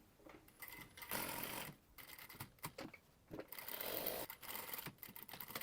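A sewing machine stitches a seam on a ruched top in bursts of fast, even mechanical whirring, pausing between runs, close and clear with no talk.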